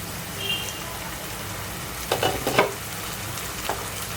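Chopped tomato going into a frying pan of onions cooking on low flame for a simple fish pulusu, giving a steady soft sizzle with a few brief louder scraping stirs midway.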